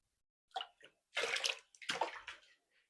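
Water pours into a pot of rice being cooked on a gas stove, a few short splashing bursts separated by pauses, close and fairly quiet.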